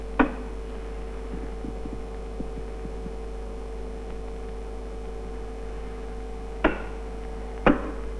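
Induction apparatus switched to alternating current gives a steady, low electrical hum throughout, with a few sharp clicks or knocks over it.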